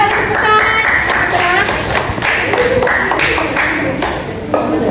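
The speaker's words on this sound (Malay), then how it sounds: "bagi tepukan" A classroom of students claps together, fast uneven claps blending into loud applause with bright ringing tones mixed in, close and busy.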